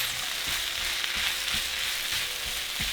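Seasoned pepper strips frying for tamale filling, a steady close sizzle with periodic stirring bumps and scrapes, no voices.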